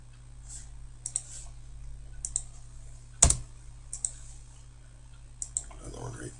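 Sparse computer keyboard taps and mouse clicks during text editing on a topographic map exercise, a few light isolated clicks with one sharper louder click midway, close and quiet over a low steady hum.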